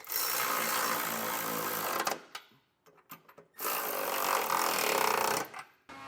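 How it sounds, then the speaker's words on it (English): A power tool with a 3/4 inch socket runs in two sustained whirring bursts while snugging a bolt on a Class III trailer hitch on a 2020 Subaru Forester, separated by a pause with a few clicks and taps. "we'll snug it down with a 3/4 inch socket"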